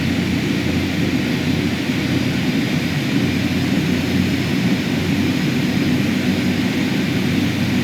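Carenado King Air B200 twin turboprop engines at high idle in Microsoft Flight Simulator 2020, a steady, loud, unbroken whine and roar that holds level throughout with no talk.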